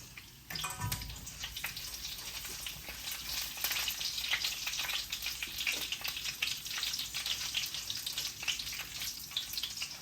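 Mustard seeds, fennel, cumin and cloves sizzle in hot oil for a Malaysian-style chili chicken, a steady bright crackle and spatter that holds on alone without talk.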